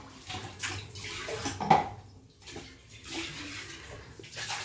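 Water running from a tap while dishes are washed by hand, a steady close splashing flow that swells and eases with clinks of utensils, no talking.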